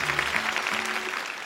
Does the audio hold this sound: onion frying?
no